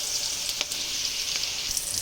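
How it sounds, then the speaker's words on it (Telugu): Green chillies sizzle and crackle steadily in hot oil, a close, bright frying hiss with occasional sharper pops and stirring, no voices. "కొంచెం సేఫ్గా వేయించుకోవాలి. చూడండి ఆల్మోస్ట్ ఇంకొంచెం ఇవ్వాలి, రెడ్ కలర్గా రావాలి ఇవి."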